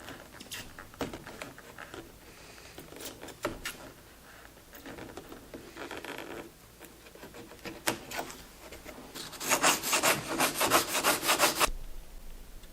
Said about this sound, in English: Gorilla Glue scraped with a razor blade and prepped with 120 grit